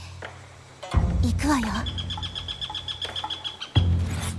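Bird call in the stealth game Shadow Tactics: Blades of the Shogun, a short chirping whistle heard amid a woman's spoken lines, followed by a steady high repeated tweeting tone.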